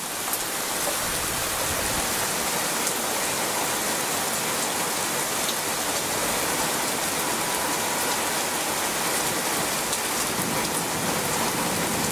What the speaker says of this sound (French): C'est une belle averse qui tombe